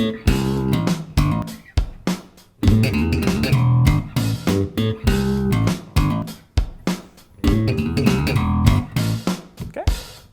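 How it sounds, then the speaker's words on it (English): Slap bass guitar playing a triplet riff with hammer-ons and ghost notes, a close, punchy run of popping and thumping notes in repeated bursts separated by short pauses, with no voice. "So, with the riff, it sounds like this."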